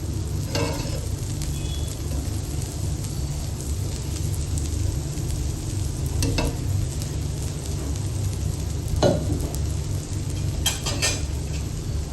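Oil sizzles steadily under a masala dosa cooking on a hot pan, a continuous close frying hiss with a few clinks of utensils and no talking.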